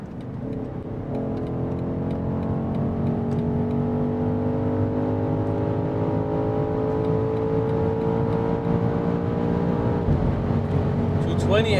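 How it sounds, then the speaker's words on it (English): Inside a 2023 BMW XM at high Autobahn speed: a steady engine drone with rising tones, a constant rush of road and wind noise, and a faint burble from the exhaust near the end. "The burbles at the back."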